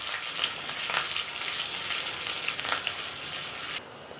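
Green chilies, dried chilies and a pinch of asafoetida frying in oil as a tempering for curd rice, giving a bright, continuous sizzle with crackling spikes that drops slightly in level near the end.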